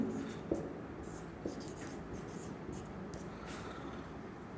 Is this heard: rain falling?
no